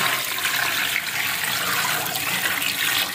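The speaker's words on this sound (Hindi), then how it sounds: "और पानी डाल देते हैं" Water poured from a tap into a cooking pot holding goat trotters, a steady rushing splash that fills the whole stretch at moderate loudness, with no voices.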